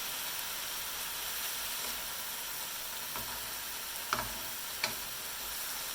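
Onions sizzle steadily in a pan for gluten-free fajitas, a constant soft frying hiss with a couple of faint clicks near the end.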